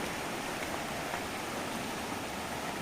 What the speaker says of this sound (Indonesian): Kalian bisa dengar suara sungai.